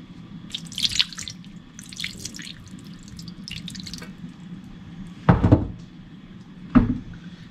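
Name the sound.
pineapple juice poured into chicken adobo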